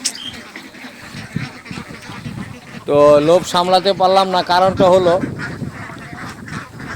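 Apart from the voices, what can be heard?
ducks at a duck farm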